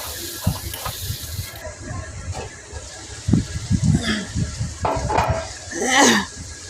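Chicken and ridge gourd frying in a pan, stirred with a spoon in uneven scraping bursts, soft sizzle and clinks of metal against the pan, close and moderately loud, with no talk.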